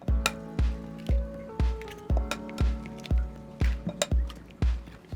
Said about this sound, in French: Je vais mettre 3 œufs.